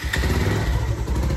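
A motorcycle engine starting and running at a festive Tihar outing in Tansen, a loud close rumble with a brief rising burst then steady throbbing idle.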